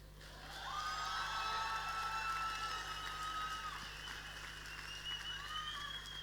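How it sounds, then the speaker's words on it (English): Applause for a speaker at a political rally in Cape Town swells quickly into steady clapping with a few light cheers, heard from a distance and fairly faint, with no talking over it. "Another round of applause for Maggie."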